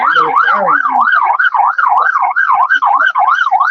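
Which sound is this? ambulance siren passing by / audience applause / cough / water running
ambulance siren passing by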